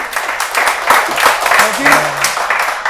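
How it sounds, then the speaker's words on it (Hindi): Audience applause at an interview, with rhythmic clapping in bursts heard under and between a voice talking. "वही ताली हो जाए एक बार यार।"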